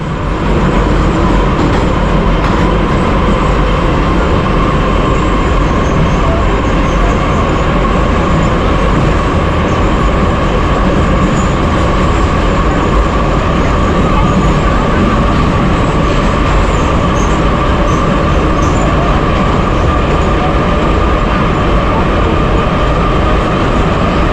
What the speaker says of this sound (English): the sound of metal wheels groaning on the rails